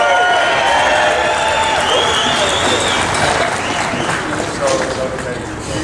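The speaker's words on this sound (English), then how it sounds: "there's such a huge crowd here" A large crowd at a political rally roars with sustained applause, cheering and whoops, a dense, loud wall of clapping and shouting that runs continuously throughout.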